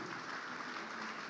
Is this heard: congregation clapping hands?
yes